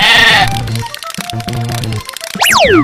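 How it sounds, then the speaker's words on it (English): A sheep bleats over a bouncy cartoon music track, followed by a sliding boing sound effect, loud and close, with no talk. "Sheep."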